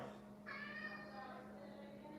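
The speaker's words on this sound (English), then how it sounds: "I'm gonna let the kittens out. They're in here crying." Kittens meow and cry in a room, one drawn-out plaintive mewl standing out clearly, with fainter cries trailing after it over a steady low hum.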